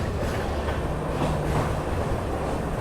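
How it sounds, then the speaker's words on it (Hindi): Steady, dense rumble of a train at Mariani Junction railway station in Assam, with faint wheel clatter and a brief squeal. It is loud and continuous, with no speech. "फाइनली अपना अराइवल हो गया मरियानी जंक्शन रेलवे स्टेशन पे"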